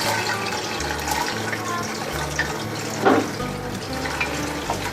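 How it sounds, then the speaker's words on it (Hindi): Sliced onions frying in oil for nihari give a steady, close sizzle with a continuous low rumble beneath it throughout. "सबसे पहले हम इसमें प्याज डालेंगे ऑयल में।"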